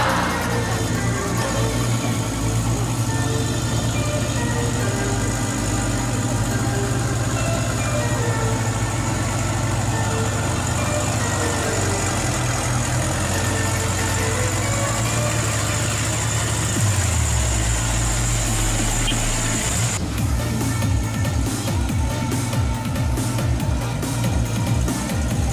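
A Pertamina fuel truck's heavy engine rumbles loud and steady, rising as it pulls away, with a low droning tone that shifts and drops toward the end.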